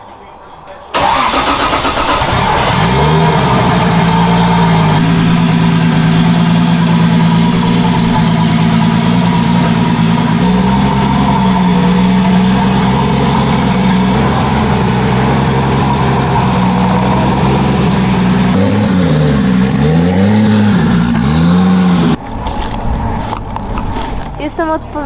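A drift car's engine cranks and catches, then settles into a loud, steady idle with wavering revs close by, cutting off near the end before more engine noise.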